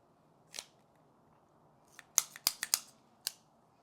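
Scissors snipping through material, a faint single snip followed after a pause by a quick cluster of four or five sharp, close cuts and one final snip, with no voices.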